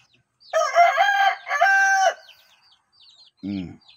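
A rooster crows loudly nearby in a long, wavering call, followed after a pause by a shorter, lower cluck.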